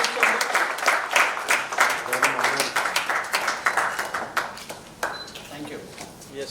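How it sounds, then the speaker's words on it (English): A conference audience applauds at a construction industry partnership announcement, a dense burst of many hands clapping that gradually thins and fades, with a voice speaking over the tail end. "Huge round of applause, please."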